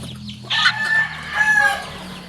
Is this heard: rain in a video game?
no